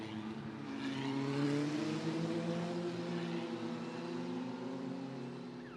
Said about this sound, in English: That is the car of Valerio Rinicella